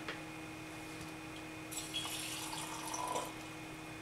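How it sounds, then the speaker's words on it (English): Tap water runs into a jar for sprouting seeds, first a quiet steady trickle, then a brighter gush for about a second and a half before it tapers off, close and fairly soft over a faint hum. "So I'm going to fill this with water."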